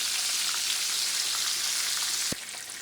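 Country fried steak frying in a pan, a steady loud hiss and crackle of hot oil throughout, close up, with one soft low knock near the end and no speech.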